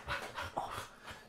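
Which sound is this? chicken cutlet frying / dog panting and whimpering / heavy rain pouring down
dog panting and whimpering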